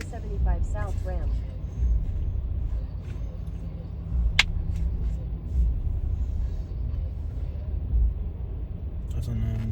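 Steady road rumble of car traffic on the I-75 highway in Georgia, a low continuous drone of vehicles with a brief sharp tone partway through, heard from inside a car while a voice talks over it.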